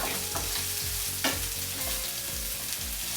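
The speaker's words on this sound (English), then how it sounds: "Now I'm going to go ahead and throw in my onions, and they're going to fry fast" Onions fry fast in a single pan for a steak hash, a loud, steady sizzle close up with a stirring scrape near the start and no talking.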